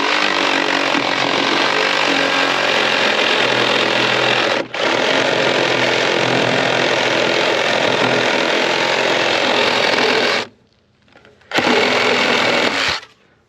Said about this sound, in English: Now we use a Sawzall, well, the Milwaukee hacksaw,